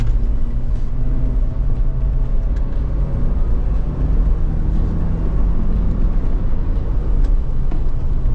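A GWM Tank 300 SUV on a country road, its engine and road noise forming a steady, loud low rumble and whir from inside the cabin as it accelerates to pass another vehicle.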